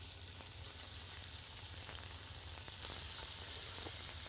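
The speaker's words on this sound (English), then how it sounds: "now the garlic's beginning to brown, so I'm putting in the meat." Meat fries alongside browning garlic in a pan for an ultimate cheesesteak, a dense steady sizzle with crackling pops running the whole time, close and constant with no voices.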